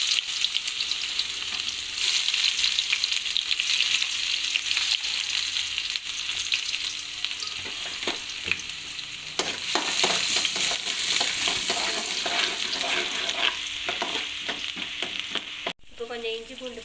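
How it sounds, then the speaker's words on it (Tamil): Chopped potato and onion sizzle loudly in a hot pan, a dense continuous frying hiss broken by stirring scrapes and clatter, heard close up with no talking. "நம்ம நறுக்கி வச்சுருந்த உருளைக்கிழங்கு இது வெங்காயத்தை போட்டுக்கிறேன்."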